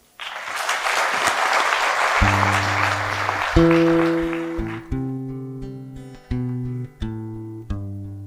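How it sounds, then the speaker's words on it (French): Applause from an audience at a café performance fills the room loudly for a few seconds and then gives way to a steady keyboard or synth bass line in repeating chords. "Applaudissements pour Sidi."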